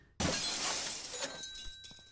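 Glass shatters with a sudden loud crash inside the video game Thief Simulator 2, followed by a bright tinkling spray of shards that trails away over about two seconds.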